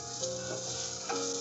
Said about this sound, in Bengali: পেঁয়াজগুলোকে আমি বেশি ভাজবো না, হালকা একটু ভেজে নিব